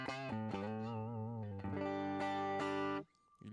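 Electric guitar played through a JHS Mini Compressor Whitey Tighty pedal, several sustained clean notes and chords ringing out evenly with rich harmonics, ending with a sudden drop to near silence.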